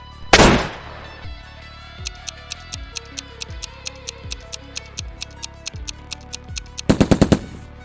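SCAR assault rifle in the video game PUBG, a loud opening shot followed by a steady rhythmic string of single crisp shots, then a fast burst of automatic fire at the end.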